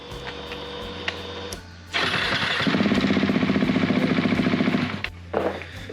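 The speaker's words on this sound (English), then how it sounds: "So now I can turn the bike on and it should just start." Husqvarna 701 motorcycle engine cranking and catching, then idling with a loud, fast, pulsing thump for a few seconds before shutting off, heard close up in a quiet space.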